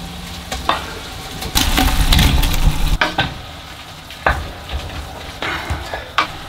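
A kilogram of sliced onions frying for chili con carne, a steady sizzle broken by scraping stirs and clanks of the utensil against the pot, with a louder burst of stirring early on.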